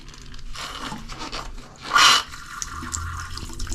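Water is squeezed out of soaked foam inserts in off-road swamp tires, giving a steady close splattering trickle with a louder, brief wet gush in the middle, and nobody talking.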